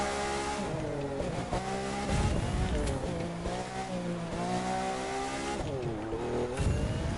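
A Lamborghini Countach racing in the video game The Crew 2 during a hill climb, its engine revving up and down in steady rising sweeps with tire squeals, loud and close throughout.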